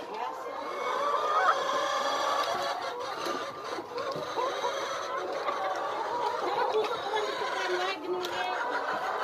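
A crowd of chickens on a poultry farm in Bangladesh, steady overlapping clucking and chattering that fills the scene continuously, fairly close, with no clear talk over it.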